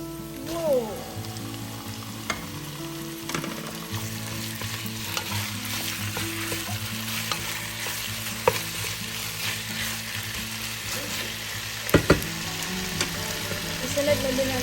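Chicken pieces stir-frying in a pan while upo (bottle gourd) is cooked Filipino style: a steady, close sizzle runs throughout with scraping stirs and a few sharp clinks of a utensil against the pan, and no talk.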